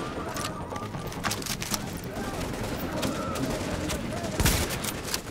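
Gunfire in the shooter The Division comes as bursts of sharp shots and a rattling volley, with a heavier blast near the end, mixed with someone talking.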